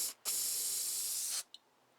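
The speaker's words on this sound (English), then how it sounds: "put the nozzle of your carburetor cleaner on it" An aerosol can of carburetor cleaner sprays for about a second into the main jet of a small Honda GC160 engine carburetor. It is a steady close hiss that cuts off sharply, followed by a tiny short puff.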